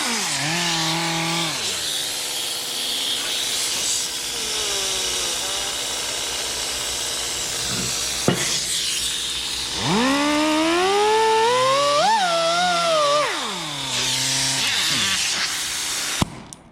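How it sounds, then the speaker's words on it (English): A small Dremel rotary tool with a cutting disc cuts into a part of an Artisan Manufacturing Company lathe. Its loud, close motor whine swoops up and down in pitch for most of the clip, with no talk. "Thought that little Dremel might do it, but that disc ain't really too good."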